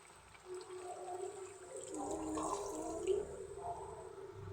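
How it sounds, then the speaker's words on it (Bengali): Water poured into a pan of cooked, fried chicken meat, a soft bubbling and gurgling pour with a low sizzle beneath, faint and close, rising slightly midway and without talking. "এখন আমি পরিমাণ মতন জল দিয়ে দিব।"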